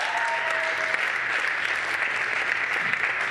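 A church congregation applauds with dense, steady clapping that fills the room at an even volume throughout.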